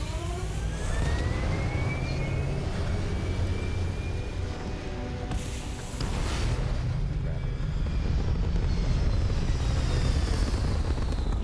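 Spaceship liftoff in the video game Starfield: a loud, steady broadband roar with rumbling low end and sweeping engine tones, swelling slightly toward the end and sustained throughout.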